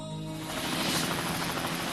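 A helicopter flying, its rotor giving a steady, dense thumping roar that swells slightly in the middle, continuous and fairly close, with no voices.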